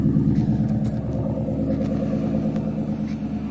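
A 2004 Ford P71 Police Interceptor with a Mustang GT 2-valve V8 idles through an aftermarket dual exhaust, giving a steady, deep, loping rumble up close with no voices.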